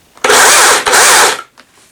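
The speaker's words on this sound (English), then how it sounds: "and the chainsaw starts" Husqvarna 120i battery-powered chainsaw starting up: a loud, high electric motor whine runs for just over a second with a brief dip in the middle, then cuts off, followed by a faint trailing rattle.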